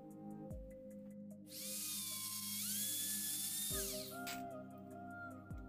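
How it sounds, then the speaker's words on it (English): A 6 mm drill bit bores a hole into the center of a paintbrush handle. A high, whining drill runs for about two seconds and then cuts off abruptly, with no voices. "First of all, 6 millimeter drill."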